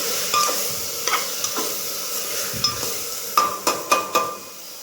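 Food stirred and sizzling in a little oil inside a pressure cooker, with a faint steady fry under a series of sharp metallic scrapes and knocks of a spoon against the pot.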